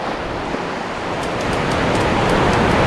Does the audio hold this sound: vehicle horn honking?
no